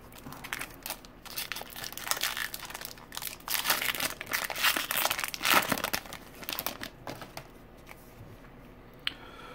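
A foil booster pack of trading cards is torn open and crinkled by hand up close. Irregular bursts of sharp crackling and rustling swell in the middle, then trail off into a few scattered rustles.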